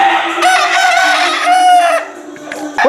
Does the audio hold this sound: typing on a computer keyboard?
no